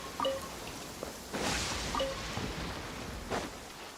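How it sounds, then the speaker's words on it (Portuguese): Rain falls in the open-world game Genshin Impact, a steady moderate patter with a few louder swells of downpour and no talk over it. "Mano, que chuva é essa?"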